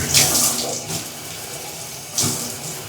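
Water runs from a hotel shower in a DoubleTree Suites bathroom, a steady hiss of spray with two louder surges as the flow is adjusted, heard close and without talk.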